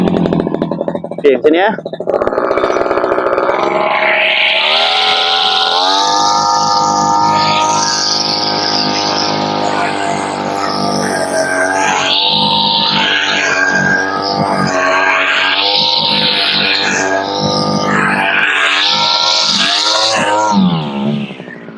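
STIHL FR3001 backpack brush cutter with its engine running loud and close, a steady whining drone that rises and dips as the throttle changes, with someone talking over it.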